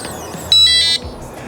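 An RVLOCK keyless entry door handle gives a short, loud two-part electronic beep as it unlocks, a clear high tone lasting under half a second.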